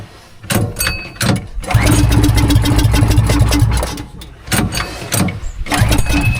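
The motor launch's boat engine cranks in a few stuttering bursts, catches, and settles into a loud, close, rhythmic chugging idle before sputtering and restarting.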